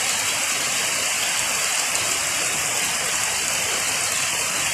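Steady, dense hiss of heavy rain on a goat pen, constant and loud throughout with no voices.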